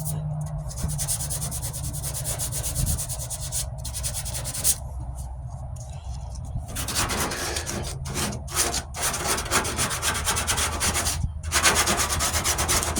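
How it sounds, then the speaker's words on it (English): A 1998 Ford Ranger passenger-side wheel arch has its Bondo body filler sanded by hand, a steady rough scraping and rubbing heard up close, continuous for over ten seconds with short pauses between strokes. "I had put Bondo fill underneath here. Might as well sand this down."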